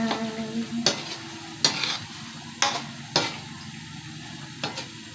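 Menudo stirred in a pan just after soy sauce is added, with a low steady sizzle broken by five sharp scraping strokes of the spoon at roughly even intervals, close and clear, no talk.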